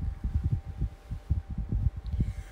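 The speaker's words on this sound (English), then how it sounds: "it does have the hum on low and medium" A 12-inch Kool-Flo high velocity fan hums on a low or medium speed setting, with a faint steady tone over a rhythmic, pulsing low throb that repeats throughout. No one speaks.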